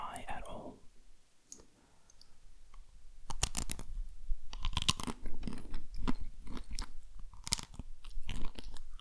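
Crunchy frozen Jaffa Cakes being bitten and chewed close to the microphone, with repeated sharp crunches and wet mouth clicks over a quiet background, the pace picking up after a brief pause.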